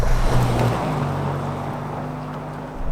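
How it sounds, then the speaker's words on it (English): A 2025 Toyota 4Runner TRD Pro's exhaust drones at a steady low rumble while driving around town, loud and close, with no talking over it. "I do like the sound of that exhaust, especially when wheedling around town."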